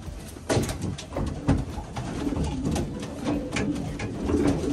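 Racing pigeons in a breeding loft coo steadily and close by, with repeated soft throaty calls overlapping, plus occasional flutters and shuffles.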